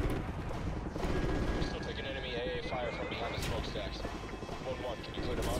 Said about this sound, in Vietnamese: súng phòng không này